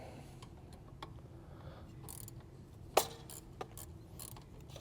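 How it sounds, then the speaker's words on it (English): A ratchet fitted with a stubby socket loosens a coolant line on a B9 Audi S4 during a turbo install, giving a few faint mechanical clicks and one sharp click, with no talking. "we're going to use one of our stubby sockets"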